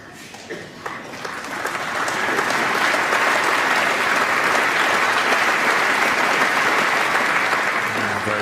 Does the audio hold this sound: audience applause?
yes